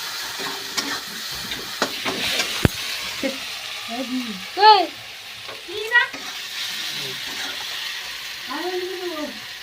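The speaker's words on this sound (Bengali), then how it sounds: "দেখো লাল লাল ভাজা হয়ে এসছে" Spices with turmeric and salt sizzle among browning onions in a frying pan, a steady close hiss with light stirring scrapes, while a voice speaks briefly a few times over it.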